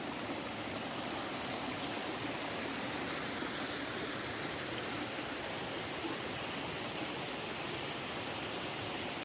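Steady broadband rush of a stream flowing past a grist mill in Great Smoky Mountains National Park, continuous and fairly close with no voices.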